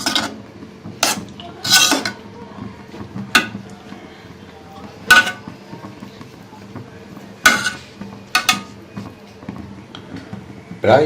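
Glycerin soap mixture is stirred in a pot, giving sharp, irregular metallic scrapes and knocks against the pot's sides, spaced a second or two apart, with a voice talking quietly in between.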